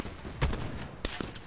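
Gunfire in Call of Duty Black Ops 4, a few quick, fairly faint shots in a short burst against a busy game background.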